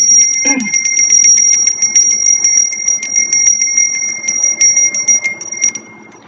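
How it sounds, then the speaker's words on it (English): A small brass bell rings rapidly and repeatedly up close, bright metallic dings trilling for several seconds before trailing off. "Ringing a little brass bell in between readings."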